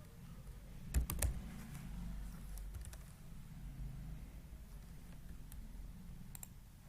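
Typing on a computer keyboard while working in Adobe Illustrator, with quiet, closely spaced key clicks in a short burst and then sparse taps over a low steady hum.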